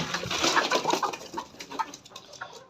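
Desi backyard chickens clucking and squawking as the coop is opened in the morning, a busy cluster of close, overlapping calls that thins out toward the end.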